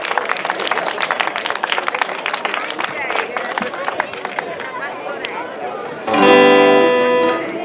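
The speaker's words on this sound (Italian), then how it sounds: "Accogliamoli con un bel applauso." Audience at a song night applauds performers, dense close clapping for about six seconds, then a held musical tone takes over.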